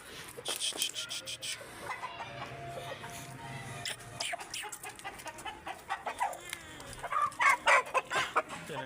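An Aseel rooster clucks in short, uneven bursts that grow busier toward the end, close by amid faint rustling and background noise.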